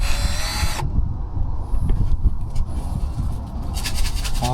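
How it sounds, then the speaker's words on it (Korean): A power drill backs out star-head screws on a floating houseboat, its motor whirring loud and close for several seconds with a brief high squeal near the start and end. "보니까 별 드라이버가 돼 있어서 드릴로 할까?"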